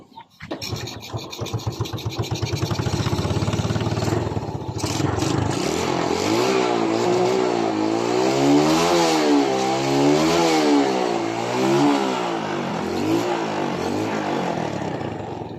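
A carbureted Yamaha Vega 115 motorcycle engine, which stalls when the shift pedal is pressed, cranks and catches, then idles roughly before being revved repeatedly in rising and falling surges, loud and close.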